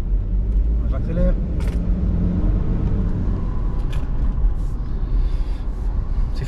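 A BMW engine with the N47 diesel rumbles loudly and steadily up close after a clutch replacement, a low continuous drone with faint higher whine, as if driving under acceleration.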